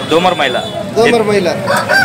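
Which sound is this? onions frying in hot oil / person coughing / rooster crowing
rooster crowing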